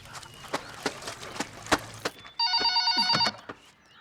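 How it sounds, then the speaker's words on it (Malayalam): A telephone bell rings in a house in a comedy film scene, one loud sustained trill burst in the second half, preceded by a series of sharp footstep-like knocks and followed by a couple of quieter thumps. "ഫോൺ അടിക്കുന്നുണ്ട് ചെല്ല്."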